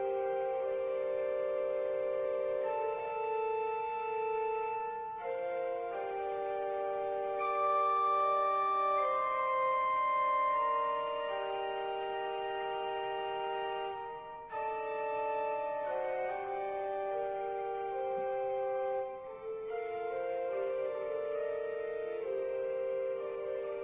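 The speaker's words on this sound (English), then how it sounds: "If you are hearing organ music," Organ music from the video game Kentucky Route Zero plays as slow, sustained chords that shift gently from one to the next, steady and moderately loud with no voices.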